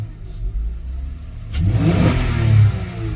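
Acura TL Type S engine revving on a test drive, starting as a low steady rumble and then swelling into a louder rev that rises and falls over a couple of seconds, heard close and alone.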